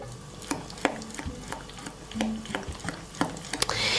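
A spoon mixes almost-frozen homemade vanilla ice cream in a bowl, giving close, irregular thick scraping and soft squishing strokes with small taps against the container, no talking.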